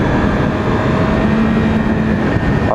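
A Yamaha R6 motorcycle engine runs loud and close on a road still wet from rain, holding a steady, dense mechanical drone through the whole stretch with no voices over it.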